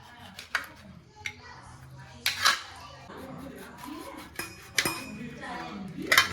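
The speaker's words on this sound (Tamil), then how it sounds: "ரெண்டு லெமனை கட் பண்ணி சாரை எடுத்துக்கலாம்" Two lemons are cut and squeezed for juice in a home kitchen, with scattered knife taps and clinks of cutlery and dishes nearby, some soft handling sounds between them, fairly quiet and close.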